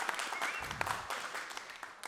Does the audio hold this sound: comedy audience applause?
yes